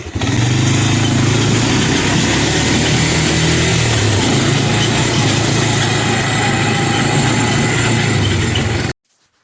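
A trailer rattles and clanks behind a small working machine on a building site, a loud continuous racket over a steady engine drone that lasts about nine seconds before cutting off abruptly.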